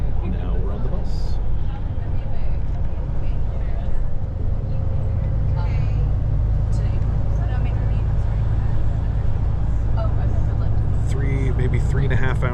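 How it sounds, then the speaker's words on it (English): Steady low engine rumble and road drone fill the inside of a moving bus bound for Jeonju, with faint background chatter and rattles throughout. "Now we're on the bus."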